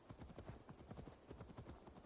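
Heavy mount footsteps from a bear ridden in Assassin's Creed Valhalla, a steady run of muffled clip-clop thuds close by with no talk.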